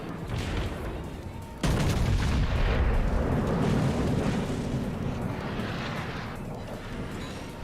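Warship artillery fire in World of Warships, a heavy booming barrage with a sharp loud onset partway in, then sustained rumbling blasts and rolling gunfire that continue to the end.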